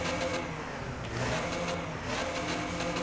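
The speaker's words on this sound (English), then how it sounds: "And that really just revs right up there." A 2018 Mercedes-Benz X-Class diesel pickup engine in a video game revs hard and repeatedly to about 5,300 RPM, its loud throaty roar rising and falling in waves with no talking.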